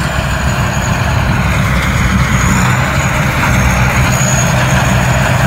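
A rice combine harvester's engine runs out in the field, giving a loud, steady, unbroken diesel rumble with a constant mechanical drone throughout.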